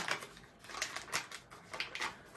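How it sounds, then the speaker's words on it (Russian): A pack of butter is opened in a home kitchen while baking a cake, giving a quick run of crisp, close crinkling and clicking rustles from the wrapper. "Пачечку маслечко открываем."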